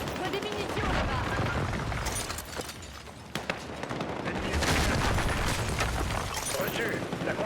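Gunfire in the Battlefield 6 video game: dense, continuous rattling bursts and booms, loud throughout and mixed with game voices speaking French over the battle noise.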